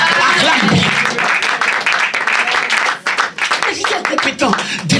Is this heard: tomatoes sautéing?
no